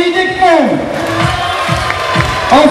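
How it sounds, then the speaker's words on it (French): Crowd at a podium ceremony cheering and applauding the first-place winner, loud shouts and whoops with a clear voice calling out over scattered clapping, lively and close. "Un tonnerre d'applaudissements pour la première."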